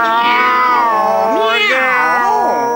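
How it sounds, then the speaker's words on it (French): Cat meowing in a 1994 animated retelling of the Bremen Town Musicians, loud and close, with several long, drawn-out meows that rise and fall in pitch like a serenade, heard alone. "Les chats sont les spécialistes des sérénades au clair de lune."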